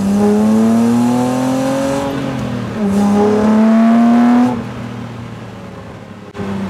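A Jannarelly Design 1 sports car drives hard, its engine note rising through the revs, dipping with a gear change, then climbing again before backing off, loud and close with no voices.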